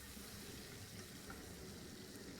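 Rui fish fries in oil in a pan, a steady, soft sizzle that continues evenly without a break.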